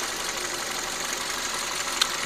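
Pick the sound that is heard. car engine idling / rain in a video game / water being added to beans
car engine idling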